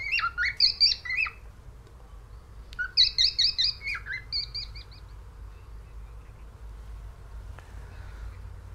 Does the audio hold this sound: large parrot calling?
yes